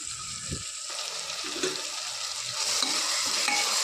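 Okra sautéed in oil is stirred with grated coconut and salt in a pan, producing a steady frying hiss and soft scraping strokes of the spoon close up, with no talk.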